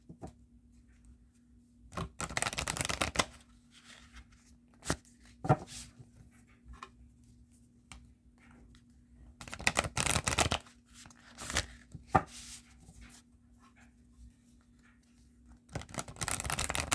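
Tarot cards being shuffled in several separate bursts of crisp riffling, each lasting about a second, with quiet gaps between them and a steady low hum in the background.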